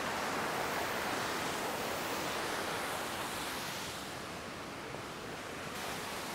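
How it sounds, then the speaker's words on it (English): Steady, dense rush of falling water, a broad roaring hiss that stays loud and constant throughout with no voices. "I've just moved a little bit closer to the waterfall"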